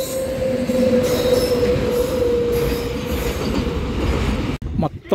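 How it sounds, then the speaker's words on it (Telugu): A passenger train rolls into a station on a loop line, a loud, continuous rumble with a sustained wheel squeal running across it, close by, before breaking off abruptly near the end. "ఈలోపు ట్రైన్ వస్తుంది."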